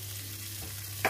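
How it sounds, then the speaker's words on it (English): Salmon and asparagus frying in a pan, a steady close sizzle with a constant low hum beneath and a brief brighter crackle at the very end. "So it's just going to fry a little bit"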